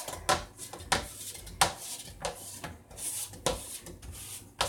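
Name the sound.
kneading pizza dough out in a pan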